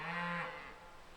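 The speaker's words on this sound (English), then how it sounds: "Up in the highlands, cattle are still grazing on the lush meadows." A cow grazing on a highland meadow gives one long, close moo that swells and then trails away into quiet.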